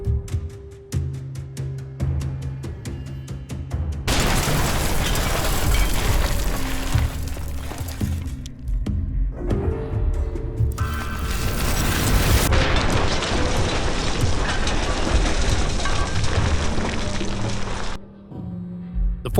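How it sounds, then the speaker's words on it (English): A powerful explosive dropped on a building in the war in Ukraine gives deep, heavy booms and sustained roaring blasts, loud and broadband, rising abruptly several times with brief quieter gaps between. "They dropped a powerful explosive. The explosion destroyed the building."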